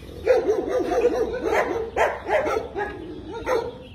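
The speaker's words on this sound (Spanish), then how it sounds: "ahí los perros, a ver si no me atacan." Several dogs bark at a cemetery at dawn, a run of sharp, fairly close barks and yips in irregular bursts, with no talking.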